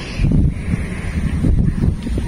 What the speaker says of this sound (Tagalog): Kaya mahangin.